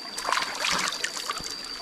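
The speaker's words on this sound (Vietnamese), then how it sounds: "gặp được cái suối thật sự là nước nó mát lắm" Cool water in a forest stream trickles and splashes steadily at close range, a continuous bright gurgle with no one speaking.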